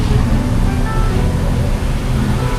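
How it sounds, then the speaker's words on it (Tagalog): Water mist sprayed by a cooling misting system at a coffee shop on a hot street near Marble Mountain, Vietnam, heard as a steady broadband hiss over loud low traffic-like rumble throughout. "Nagre-release siya ng parang tubig, parang mist, para lumamig."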